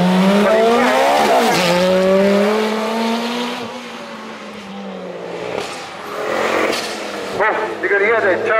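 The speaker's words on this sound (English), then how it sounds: "you can hear the turbo on the Ford RS blowing off the wastegate opening" A turbocharged Ford Focus RS revs and races past at a speed event, then a sharp hiss of boost pressure released through the wastegate cuts through, with talk over the engine noise.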